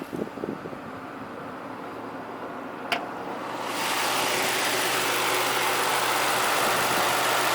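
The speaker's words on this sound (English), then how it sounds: "It's a 4-liter V8 with variable valve timing" The 4-liter V8 engine of a 1998 Lexus SC400, with variable valve timing, runs steadily at idle, a smooth continuous hum with a faint click partway through and no talking.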